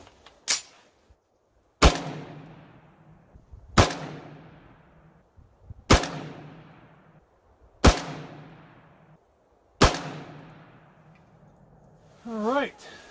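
Six single shots from a Primary Arms FM9 pistol caliber carbine firing 147 grain rounds, sharp loud cracks spaced about two seconds apart with ringing decay, outdoors at close range.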